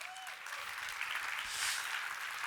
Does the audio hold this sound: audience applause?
yes